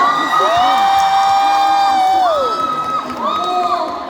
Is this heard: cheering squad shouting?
yes